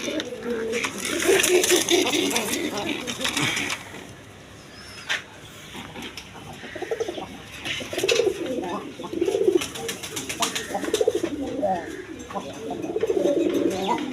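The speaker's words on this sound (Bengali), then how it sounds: "দেখেন ডাক, দেখেন কবুতরের ডাক দেখেন।" Pigeons at a pigeon farm coo in low, rounded repeated calls at close range, mixed with someone talking and some background clatter.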